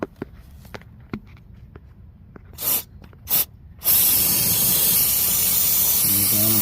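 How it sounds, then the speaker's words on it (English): Degreaser sprayed from a can onto the side of a BMW M30 engine in an E28 535i, after a few light clicks and two short bursts, then one long steady loud hiss close by. "I'm going to spray it like a degreaser just to"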